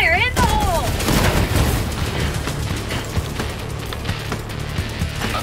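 Helldivers 2 combat with a submachine gun and shield: dense rapid gunfire and booming blasts fill the scene, a grenade explosion among them, with a voice shouting over the chaotic battle noise.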